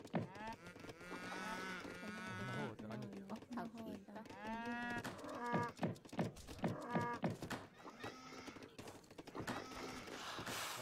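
Several cattle moo in long, drawn-out calls inside the strategy game Age of Empires III, overlapping one another at moderate volume, with faint game clatter underneath.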